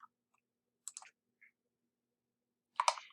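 Two or three sharp, isolated computer mouse clicks, clean and close, with a louder cluster of clicks near the end against near silence.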